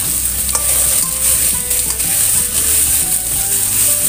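Salted fish, tofu and mushrooms sautéing over lowered heat in a pan, a loud, close, steady hissing sizzle with faint stirring clicks and no voices.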